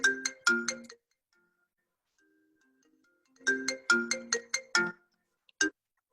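Phone ringtone of an incoming call heard over a Zoom Bible study: bright chiming bursts of a melodic tone, a short phrase, a pause of near silence, then the phrase repeats, clear and moderately loud with no talking.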